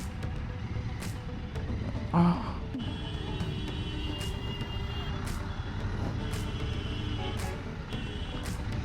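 Heavy road traffic with trucks on a busy city road near the railway station, heard from a motorcycle: a steady, loud rumble of engines with a few short beeps and horn-like tones scattered through it.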